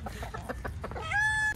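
Chickens on a rural farm cluck in a short burst of close, overlapping calls, ending in a louder drawn-out squawk over background noise.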